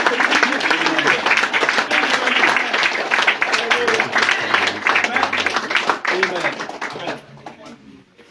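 A church congregation breaks into sustained loud applause, dense clapping filling the room for several seconds before thinning out near the end.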